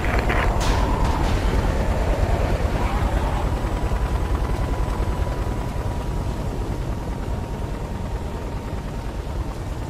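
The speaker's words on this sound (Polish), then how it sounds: "Słyszę zbliżające się śmigłowce." Helicopters approach in the video game Singularity, a steady, loud engine drone and rotor roar filling the scene continuously, with no speech.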